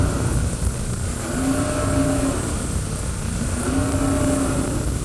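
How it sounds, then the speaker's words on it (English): A Mercury 200 Optimax outboard motor with a history of random faults, running with a loud, steady engine roar and two slow rising revs, close by. "In the last video, it was revving like this."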